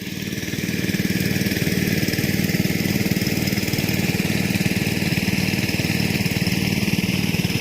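The engine of a water pump draining a fish pond runs steadily and loudly at a constant, even drone close by.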